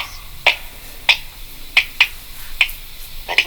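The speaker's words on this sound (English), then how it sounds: "Mr. Q claps and claps his hands." Sharp percussive hand claps, six of them, spaced roughly half a second apart, crisp and fairly close against a quiet background.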